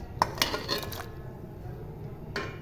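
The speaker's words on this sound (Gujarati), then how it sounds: "કુકરમાં પાણી મૂકી દીધું છે અને આ ગોટલી બધી એમાં હું નાખી દઈશ" Mango seed kernels clatter into a pressure cooker holding water: a few sharp metallic clinks and knocks early on, then one more near the end over a low steady background hum.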